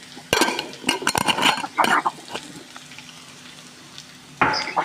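Whole cumin seeds hit hot oil in a pan of potato and chicken curry, setting off a few loud crackling sizzle bursts with metal clinks and stirring, then fading to a soft background fizz before one more sharp burst.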